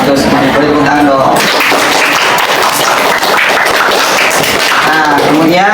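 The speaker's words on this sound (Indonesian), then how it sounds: "Semuanya boleh tepuk tangan dong." A class of students applauding after their teacher's prompt, a dense burst of clapping lasting several seconds, loud and close, with a voice speaking at the start and end.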